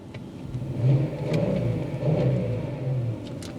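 A Volkswagen Touareg's 3.2 VR6 engine revs in a couple of throaty swells, rising and falling, close by with no voices over it.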